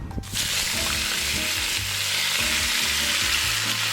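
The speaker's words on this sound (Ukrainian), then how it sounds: "Сьогодні будемо смажити на смальці." Meat sizzles steadily as it fries in rendered lard in a cast-iron roasting pan for goulash, a dense, continuous crackle and hiss throughout with no talking.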